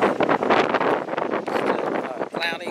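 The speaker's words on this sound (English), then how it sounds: "still cloudy, windy, and some rain off and on, sporadic rain" Wind gusts on the Seaside Heights boardwalk on a cloudy, rainy day buffet the microphone in loud, uneven roaring bursts that rise and fall continuously.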